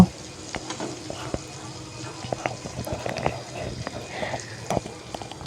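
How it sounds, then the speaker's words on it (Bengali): Green bananas (plantains) fry in a pan with spices while being stirred, a soft continuous sizzle broken by scraping clicks of the spatula, close and fairly quiet. "এবার সব মশলার সাথে কাঁচকলাগুলো ভালো করে মিশিয়ে নেব আর মশলাটাকে কষিয়ে নেব"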